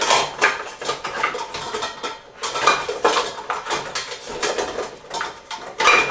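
A metal utensil scrapes and clinks rhythmically against a cooking pot as Grandma sauce is stirred, with close, uneven bursts of clatter and no talking.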